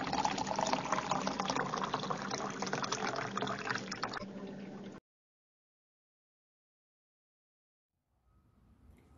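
Water is poured in a steady, close gush for about five seconds and then stops abruptly, followed by silence and a faint low rustle near the end.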